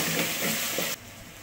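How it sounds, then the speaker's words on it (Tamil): Masala spices with chilli powder, curry masala and turmeric over onion and tomato sizzle loudly in a pan while being stirred, scraping bursts over steady frying hiss, cutting off abruptly near the end. "மசாலாலாம் நல்லா கிளறி விடுங்க."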